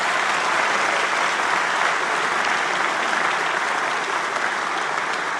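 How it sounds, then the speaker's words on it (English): A large audience claps steadily for a team of scholar athletes, dense sustained applause at an even level without a break and with no speech. "Please give them a round of applause."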